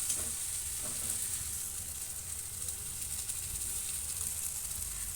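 Bay leaf, whole garam masala and onion-garlic-ginger paste sizzling in hot oil for a mutton rogan josh, giving a steady close frying hiss with no talking.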